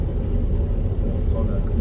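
A 2019 Seat Ibiza engine with the clutch released in fourth gear, a steady low drone and rumble from inside the car that stays close and even throughout, with a voice talking over it.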